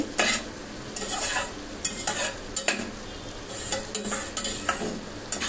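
Spice masala for Punjabi-style chicken stir-frying in oil in a pan, with a steady close sizzle broken by repeated scraping and clinking strokes of a spatula stirring the paste.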